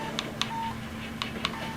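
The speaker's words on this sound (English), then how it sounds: "That's the internal workings of the speed light moving." The zoom mechanism inside a Yongnuo speedlight flash makes four short, faint whirring chirps in two pairs against a quiet background hum.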